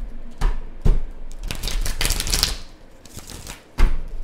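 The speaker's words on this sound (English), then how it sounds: "I'm going to shuffle this deck one more time." A tarot card deck being shuffled, giving a few sharp riffling bursts and dense papery flutter up close, with no voices.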